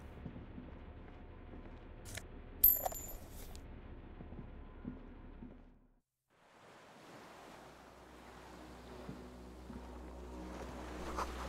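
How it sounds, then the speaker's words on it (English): In the Disco Elysium video game, water rushes far below as a soft, continuous wash of surf and wind. It briefly drops out midway, then returns as a faint, distant roar. "Water rushes below, far down below."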